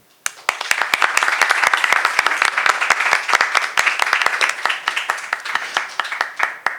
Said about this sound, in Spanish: les pido que le demos un fuerte aplauso